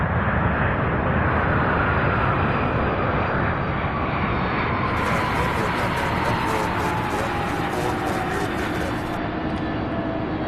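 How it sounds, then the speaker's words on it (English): An MD-11 jet at UPS Worldport in Louisville roars loudly and steadily at close range, a broad engine rumble with a slowly falling whine that holds for the whole stretch. "So we have the MD-11."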